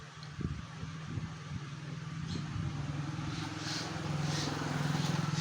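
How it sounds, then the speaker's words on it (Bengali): A motorcycle carrying riders passes a home balcony, its engine a steady low drone that grows gradually louder through the clip, with faint bird calls chirping high above. "একটা মোটরসাইকেল যাচ্ছে"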